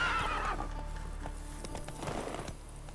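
Roach the horse in The Witcher 3 gives a clear neigh at the start, followed by soft hoof clip-clops and game ambience, close and without talk.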